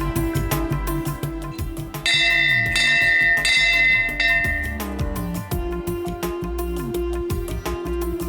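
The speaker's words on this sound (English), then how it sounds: "the bell is known to radiate a positive sound." Bell ringing in the main hall of a Hindu temple, a loud close rhythmic clanging with bright ringing overtones that swell and sustain, heard alone with no talking.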